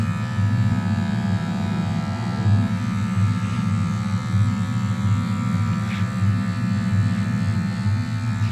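Wahl hair clippers cutting a drop fade at a barber competition, a steady close electric buzz with a low hum running without pause, no talking.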